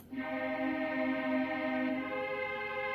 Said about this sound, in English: which I've actually laid again with 2 separate string styles